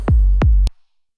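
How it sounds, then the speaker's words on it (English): Two deep modular kick drum hits from a Radical Frequencies Dual Precision VCO, each a booming low thump with a falling pitch sweep, spaced about a third of a second apart and ending in a short click. "The kick is from the radical frequencies dual precision VCO."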